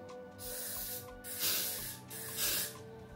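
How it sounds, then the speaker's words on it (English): Several close, breathy hisses of lace-melting spray land on a flat surface, three or so bursts of differing length, the second and third loudest, with a faint background tone and no talking. "I take a flat surface, I lay it flat like this, and I just spray"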